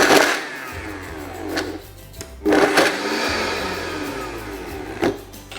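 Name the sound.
Vitamix blender pulsing cherry tart filling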